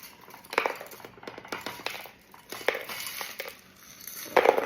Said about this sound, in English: I'm gonna fill the glass as much as I can with ice